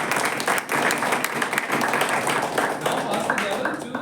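Audience applause at an oath-taking and installation ceremony, a steady dense wash of many hands clapping that runs loud and unbroken for about four seconds, with a brief dip near the middle.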